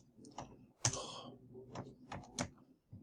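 Scattered computer keyboard keystrokes in irregular bursts, close and fairly quiet, with a few sharper clicks amid the soft tapping.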